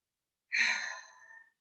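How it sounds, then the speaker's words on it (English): A single deep breath taken during a breathing exercise: one close, breathy exhale, like a sigh, starts sharply and fades over about a second, with silence around it. "Okay, take a deep breath."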